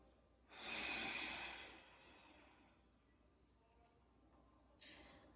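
A deep, slow breath is drawn and released at close range during a cross-legged yoga forward fold, with one long breathy exhale followed by quiet and a short sharp inhale near the end.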